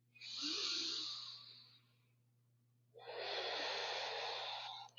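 During a yoga shoulder session, one deep, slow breath is heard up close: a long airy inhale, a short pause, then a long breathy exhale, with no speech.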